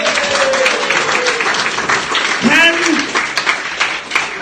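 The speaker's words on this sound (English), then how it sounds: "I think that deserves a round of applause" A live audience at a Glasgow comedy show gives a round of applause, sustained clapping throughout, with a sung or spoken voice running over the top and a brief whooping cheer midway.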